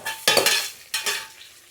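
Onions and tomatoes sauté in a mix of ghee and oil for prawn biryani, a close sizzle broken by two loud bursts of scraping and stirring against the pan, with no voices.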